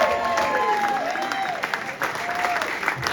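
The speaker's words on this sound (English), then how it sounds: "so a round of applause for her efforts, her hard work" An audience applauds Natalie Griffin, co-founder of Gerry's Cafe, at an evening event: a dense, steady round of clapping with a few cheers, while someone speaks over it.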